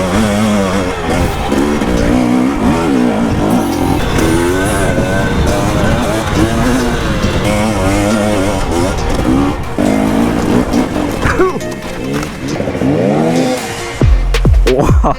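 An enduro motorcycle on a trail ride, its engine loud and close throughout, revving up and down in rising and falling sweeps as it shifts and accelerates, with a brief change near the end.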